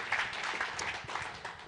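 Audience applause at the Scope Awards 2026 ceremony: a steady, dense wash of many hands clapping in a hall that holds at an even level throughout, with no clear talk over it.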